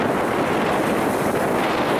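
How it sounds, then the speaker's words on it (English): Steady wind roars across the microphone on a sailboat under way, a loud continuous rushing buffet with a faint wash of water beneath. "Good wind."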